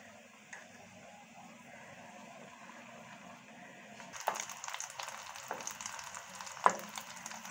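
Egg omelette mixture poured into an onion ring and frying in a little oil in a pan over low heat, giving a faint, soft sizzle that grows livelier partway through, with a few light ticks and scrapes.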